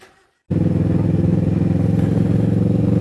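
Kawasaki Versys 650 motorcycle engine running steadily while riding through nearly empty streets in Bali, starting abruptly after a brief quiet moment and holding a loud, continuous droning hum close by.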